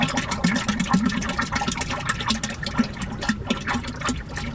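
Water-contaminated diesel drains from a bulldozer in a continuous splashing gush, loud and close, with uneven pulsing surges throughout and no talk.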